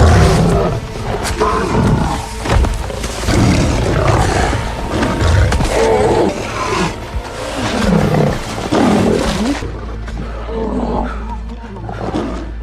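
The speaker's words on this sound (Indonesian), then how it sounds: "Ned pun menyaksikan kebrutalan dua singa untuk mempertahankan daerah kekuasaannya" Lions roaring and snarling as they fight over territory in a film scene, loud and continuous with deep, rough growls and bursts of roaring layered over a busy, dense soundtrack.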